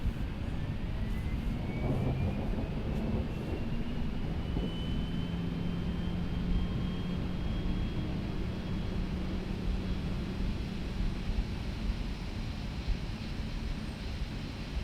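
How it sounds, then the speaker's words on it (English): Boeing 737 jet engine spooling up during start on the ground, a steady loud roar with a slowly rising whine that climbs over about fifteen seconds. "Let's go ahead and start engine 2 up."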